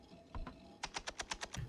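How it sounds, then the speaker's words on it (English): Typing on a computer keyboard: a couple of isolated key presses, then a quick, even run of about seven clicky keystrokes, close and fairly quiet, with no talking over it. "Typing time."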